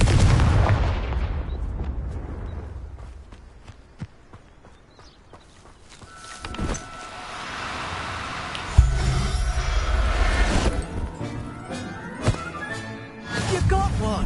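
Fire spell blasts in the game Hogwarts Legacy, with loud booming impacts at the start and later, crackling bursts and scattered footsteps between them, and a voice calling out during the action.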